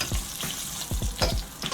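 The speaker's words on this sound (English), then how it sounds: "while my plantains are being fried" Oil sizzles and crackles steadily in a pot of frying plantain wedges, with soft bubbling pops and occasional low thumps from pieces being turned.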